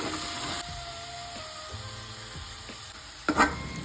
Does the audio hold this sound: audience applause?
no